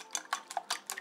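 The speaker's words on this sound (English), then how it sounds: "now my mom will be beating it" Eggs are beaten in a bowl with a utensil, giving five or six quick, close clinking taps against the bowl in a steady rhythm, with no talking.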